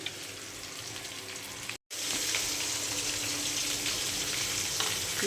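Pieces of fish frying in oil in a pan, a steady close broadband sizzle with a brief cut near the start, then continuing hissing and crackling without talk.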